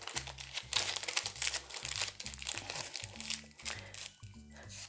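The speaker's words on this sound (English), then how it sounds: "I'm going to put a ring inside, wrap it in a bit of greaseproof paper" Greaseproof paper crinkles and crumples as a ring is wrapped in it for a Barmbrack fruit loaf, a continuous close rustle over steady low background music.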